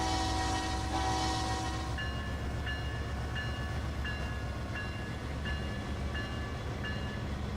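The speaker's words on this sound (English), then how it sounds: "I want to hear engine sounds." Train engine in a railway simulation game, a steady low diesel rumble with a hum throughout, joined after the first seconds by a regular series of short repeating beeps or bell-like tones, with no talking.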